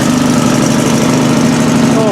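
A John Deere 185 lawn tractor, left sitting for two years, idles with a steady, close, continuous engine drone and low hum, holding level without breaks across the whole stretch.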